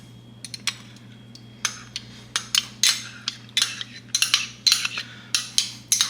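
A metal spoon clinks and scrapes against a bowl while adding Pad Thai sauce ingredients such as ketchup and tamarind, with about a dozen sharp, close taps in an irregular rhythm over a low steady hum.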